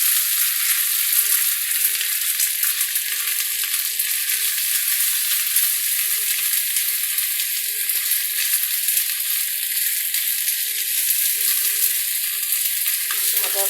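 Ginger and garlic paste fries with onions in a pan, a loud, continuous hissing sizzle that holds steady throughout with no talk over it.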